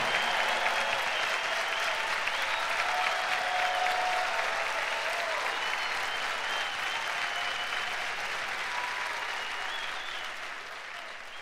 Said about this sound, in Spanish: Un aplauso para Rocío, por favor.